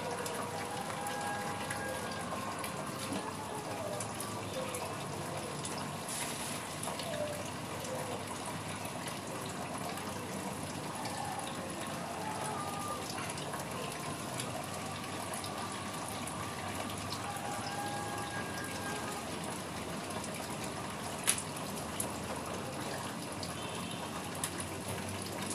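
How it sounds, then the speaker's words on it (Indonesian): Water gushes and splashes steadily as it is changed in a hydroponic basket container of water spinach seedlings, a continuous close pouring sound that runs unbroken throughout. "Sebentar teman-teman, saya ganti airnya dulu."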